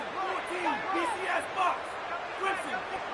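Steady crowd roar fills a college football stadium at a TU vs Utah game, with shouts and cheers rising over it while a commentator talks through the noise.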